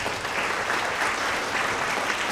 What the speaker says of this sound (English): Another round of applause for all of our Tigers of the Quarter in the area of science.